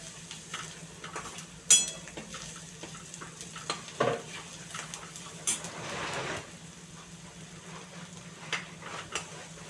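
Spoon stirring coriander powder through a Marathi-style vegetable dish in a pan, soft scraping and light sizzling with a few sharper clinks of metal against the pan, steady and close, no talking.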